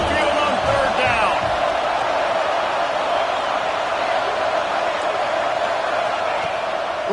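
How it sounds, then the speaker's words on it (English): A college football stadium crowd at Alabama's Saban Field on third down, a dense, loud roar that sustains evenly throughout, with a commentator's voice talking over it. "The Tide crowd rolling noise down onto Saban Field on 3rd down"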